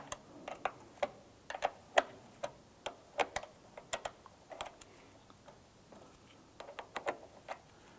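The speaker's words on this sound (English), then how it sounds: "Using an 8mm wrench or a socket, go ahead and loosen the nut on the ground terminal" An 8mm wrench loosens the nut on a car battery's ground terminal, a steady run of light, crisp ratcheting clicks repeating about twice a second, close and faint.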